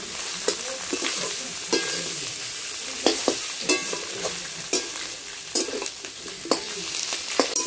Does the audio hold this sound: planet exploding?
no